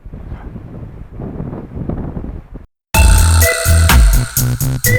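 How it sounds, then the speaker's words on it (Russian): Strong wind buffets the microphone beside a small village pond while perch fishing, a steady rumbling roar for most of the stretch, a brief drop to silence, then a louder, fuller burst of noisy buffeting to the end. "Сильный ветер, ребята, сильный ветер мешает нам ловить с Александром рыбу."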